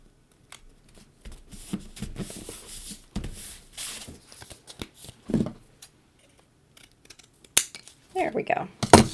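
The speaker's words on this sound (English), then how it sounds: "I am going to just go ahead and trim off the top of our banner there." Scissors trim a paper banner on a handmade Halloween card, giving irregular crisp snips and rustles up close. The snips come in scattered bursts with brief pauses and end in a louder flurry near the finish.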